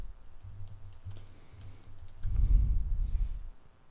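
Computer keyboard typing, a quiet run of soft key clicks over low room hum, followed by a brief louder burst of rumbling handling noise; no one speaks.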